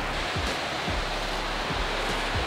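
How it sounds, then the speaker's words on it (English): Winter waterfall in wooded mountain terrain, a steady broadband rush of falling water heard close and alone, with faint low thumps of wind or handling on the mic. "We made it to the waterfall."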